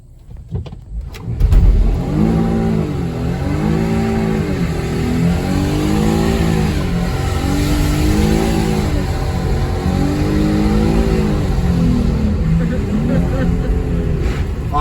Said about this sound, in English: Oh, you guys gotta see this burnout. You guys gotta see this one. It was a smoky one.